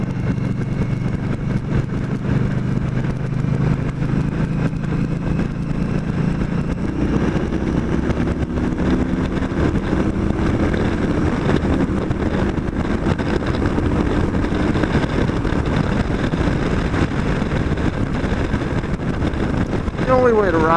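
An Indian Scout motorcycle runs at full throttle near 100 mph on Italian roads, its engine drone buried under loud, constant wind rush at the microphone while a rider talks over it.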